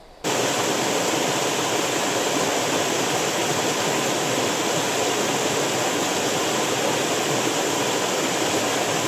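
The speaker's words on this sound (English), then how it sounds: "it's just waterfall after waterfall" Continuous broadband rushing of a river's waterfalls in Glenariff, Antrim, steady and loud without variation; no voices.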